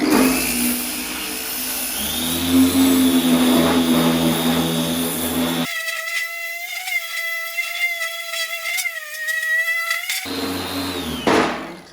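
Sanding paint to a feather edge on a John Deere LA165 lawn tractor produces a steady, loud whining drone from a power sander, with shifting pitch and a brief quieter stretch before it rises again.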